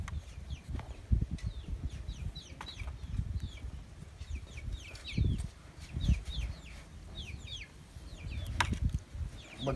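A flock of backyard chickens clucks steadily and busily close by, with overlapping calls, occasional louder squawks and some wing flapping.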